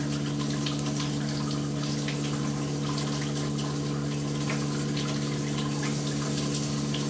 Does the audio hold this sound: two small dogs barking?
no